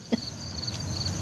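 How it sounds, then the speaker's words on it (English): Crickets chirp at night on a quiet residential street, a steady high trill that is fairly loud and close, joined by a brief soft thump near the start. "When you can hear the crickets that loud in a neighborhood"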